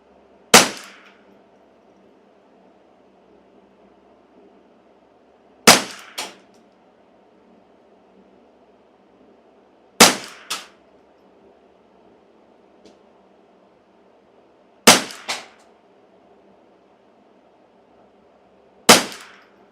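A customized Custom Shop Ruger 10/22 rifle fires five sharp, loud single shots spaced about five seconds apart, each a crisp crack with a short echo, over a low steady background hum.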